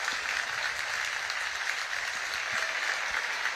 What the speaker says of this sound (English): a round of applause from both teams and the entire crowd